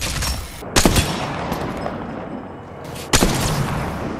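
Grenade explosions and gunfire in Apex Legends crash out in two loud bursts amid dense continuous shooting, with booming blasts rolling close by.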